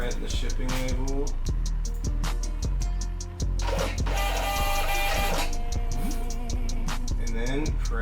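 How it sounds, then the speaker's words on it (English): A printer runs off a 4x6 inch shipping label with loud, close mechanical whirring that repeats in a steady rhythmic cycle for the whole stretch. "Print the shipping label."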